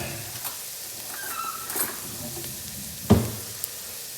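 Onions, carrots and celery cook quietly in a pan with a low, steady sizzle, broken by a sharp clink of a utensil against the pan near the end.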